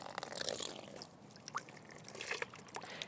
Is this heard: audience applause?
no